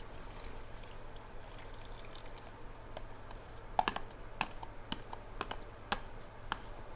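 Eleven tablespoons of melted butter poured into a mixing bowl over brown sugar while baking banana pudding blondies: a faint, soft trickle dotted with scattered small clicks and taps, quiet, with no talking.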